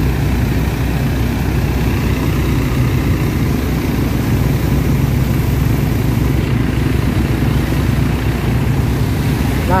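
The engine of a second water pump drains a flooded stretch of the Pantura road between Demak and Kudus, a loud, steady low drone running unbroken throughout.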